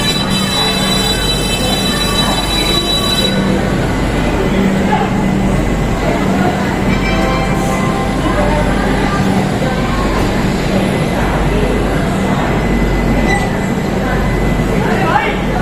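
Nandan Kanan Express pulling out of Kanpur, with a steady loud rumble of wheels and carriages running continuously throughout and a faint voice talking in the background.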